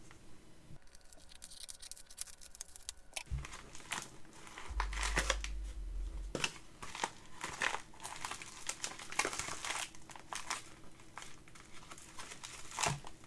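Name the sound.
cutting open a mail package with scissors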